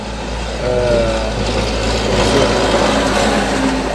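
A tractor passing by outdoors, its low engine rumble rising after a moment and holding steady at a moderate distance.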